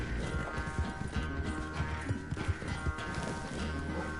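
Horse hooves in Red Dead Redemption 2, a steady clip-clop of a trotting horse under continuous background music.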